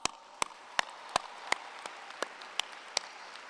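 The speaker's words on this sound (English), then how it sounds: "So let's give them a big round of applause" A single person claps slowly and sharply at a business school commencement, about nine evenly spaced claps, distinct and isolated over near silence rather than a full crowd.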